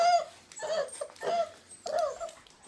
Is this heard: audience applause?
no